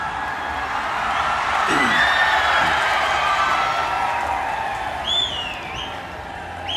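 A large audience of students at the Kerala school arts festival applauds and cheers Mohanlal, a sustained wash of clapping and crowd noise with brief whoops near the end.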